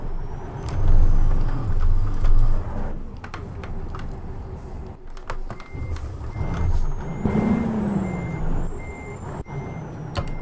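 Reversing beeps from a Ural 6464 truck in Euro Truck Simulator 2, steady repeated tones over a low engine rumble and some air-brake hiss, with no talk.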